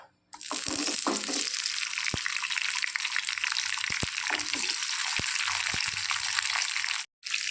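Small shallots, about fifteen, frying in hot coconut oil for a Kerala ulli puli, a steady close hiss and sizzle with occasional faint clinks, continuous and fairly loud, no talking.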